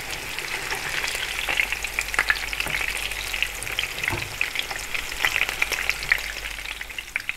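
Pieces of rohu fish fry in hot oil, a steady close sizzle with crackling pops and occasional scraping stirs, continuous and alone without any talk.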